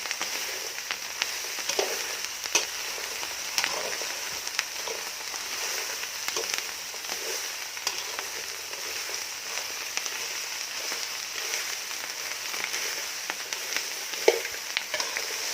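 June beetles and water bugs roasting in a dry pan give off a steady, close crackling sizzle with scattered small pops and stirring scrapes, continuous throughout with no talking.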